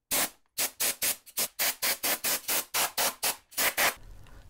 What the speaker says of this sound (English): now I'm in the garage and I'm gonna blow this motherboard free of any dust.